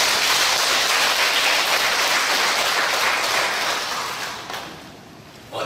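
Congregation at a Won Buddhist temple service applauds, a dense, full burst of clapping that holds steady, then thins and fades toward the end.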